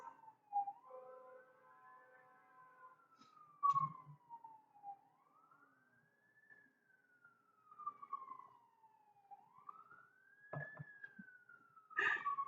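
Wailing emergency vehicle siren outside, rising and falling in long sweeps, fairly distant and moderately loud, with faint background knocks and no talk.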